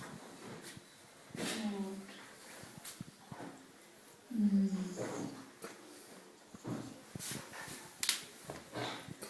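A small puppy, trembling at a beach, whimpers and whines in short bursts, with quiet breathy sounds and soft handling noise in between, close and faint.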